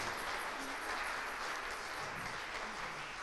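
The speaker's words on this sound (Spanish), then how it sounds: "Denle un aplauso fuerte a ese Dios por eso" A church congregation claps steadily throughout, a dense, even wash of applause filling the room with no voices standing out.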